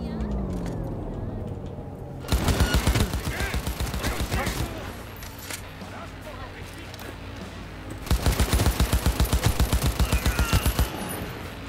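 Rapid gunfire in the video game Cyberpunk 2077, two loud bursts of automatic shots with steady fire in between, under in-game ambience.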